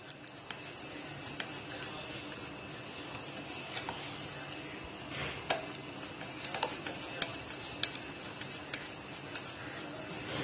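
A spoon stirs thick biscuit cake batter continuously in a pan for an eggless choco lava cake, giving a steady soft scraping texture with faint sizzle and scattered light clicks and taps, close and even, no talking.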